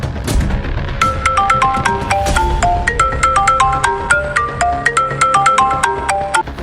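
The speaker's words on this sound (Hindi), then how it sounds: "अगर मोबाइल यहीं होगा तो अभी बजेगा" A mobile phone rings loudly and close with a bright, repeating melodic ringtone of quick chiming notes that plays continuously for several seconds, with no voices over it.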